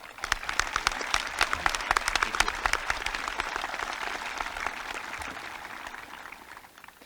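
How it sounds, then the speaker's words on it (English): A crowd applauding a student at a high school graduation ceremony, a dense burst of clapping from many hands that stays strong before slowly tapering off, with no voices over it. "Please join me in a round of applause for Brady Seberg."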